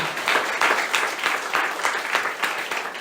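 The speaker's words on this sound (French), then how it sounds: "Applaudissons au Seigneur pour glorifier son nom." Church congregation applauding in praise during a French-language service, dense continuous clapping with rhythmic surges, fairly loud and steady throughout.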